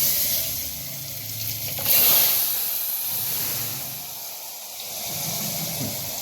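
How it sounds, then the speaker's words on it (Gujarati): Potatoes hit hot oil in a pressure cooker for tempering, a steady sizzling hiss with a louder steamy burst near the start, then a continuous frying rush close up, no talking. "પહેલાં આપણે બટેટા વઘાર નાખીએ"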